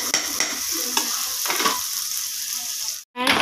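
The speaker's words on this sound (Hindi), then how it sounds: "लहसुन अदरक अच्छी तरह भून चुके हैं" Onions with ginger-garlic paste fry in a hot pan, a steady crackling sizzle with occasional stirring scrapes, close and loud, cutting out briefly near the end.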